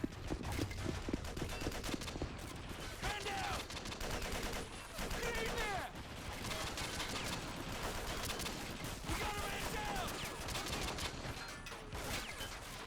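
Sustained, heavy gunfire in a Call of Duty: World War 3 mod firefight between SWAT officers and Russian forces, with dense overlapping shots and bursts continuing throughout at steady volume, mixed with other battle noise.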